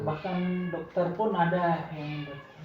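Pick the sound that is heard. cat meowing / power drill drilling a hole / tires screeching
cat meowing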